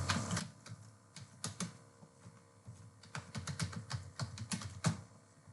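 Fingers type an email ID on a computer keyboard, a close, quiet run of irregular key clicks and taps in quick bursts with short pauses, no voices.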